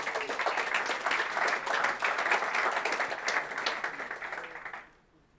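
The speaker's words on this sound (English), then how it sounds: "let's welcome him on stage with an applause" Conference audience at NG-BE 2021 in Belgium applauding to welcome a speaker on stage, a full, steady round of clapping from a sizeable crowd that fades out abruptly near the end.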